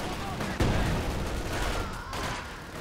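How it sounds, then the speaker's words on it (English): Massed World War II gunfire with rifle grenade blasts in Company of Heroes 2 during a 4v4 battle, a sharp explosion followed by continuous dense crackling fire and a second burst, with a voice talking over it. "Rifle grenades going to town."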